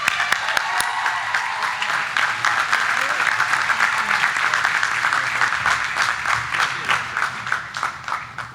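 Steady audience applause fills a commencement ceremony at RCSJ Cumberland honoring Frank, a dense, sustained wash of many hands clapping from start to finish at fairly even loudness.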